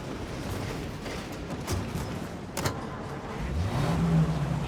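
A car driving in Mafia: Definitive Edition, a steady low engine rumble with a mild rise in revs toward the end, close and continuous, with no one talking.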